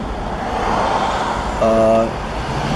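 Road traffic on the Pacific Coast near Laguna Beach, a steady roar of passing cars heard from a moving vehicle, with a brief tonal engine or brake whine partway through.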